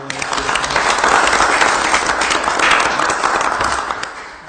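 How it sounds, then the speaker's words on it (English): Township committee meeting attendees give a volunteer a round of applause. The clapping is moderately sized and steady, swelling and then tapering off within a few seconds. "So, a round of applause."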